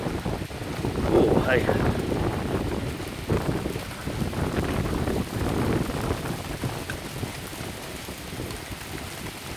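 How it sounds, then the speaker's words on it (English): Hail rattles hard and continuously on a shelter roof during a shower in Andover, a dense close clatter with rumbling beneath, while someone briefly speaks over it. "We can hear it rattling off the roof there of Be Wiser"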